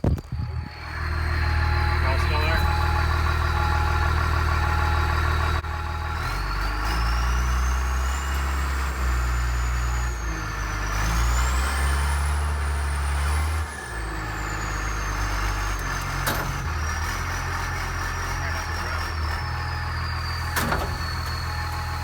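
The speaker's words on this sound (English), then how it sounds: "using our John Deere 644E wheel loader, about a 3-yard bucket on it" A John Deere 644E wheel loader with a roughly 3-yard bucket runs in a forest, its diesel engine rumbling loud and steady as the pitch shifts up and down with the throttle, with no talk over it.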